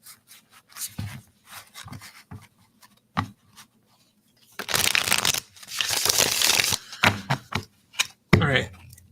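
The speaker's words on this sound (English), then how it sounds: "let me shuffle a couple more times." Tarot cards being shuffled by hand, a run of soft irregular riffling and rubbing bursts, close and fairly loud, with a longer continuous shuffle in the middle and quick flicks toward the end.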